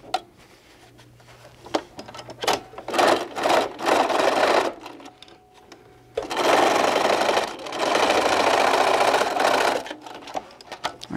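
A sewing machine stitches down the box corners of a fabric bunny bag in several quick bursts of rapid, whirring needle chatter, broken by short pauses.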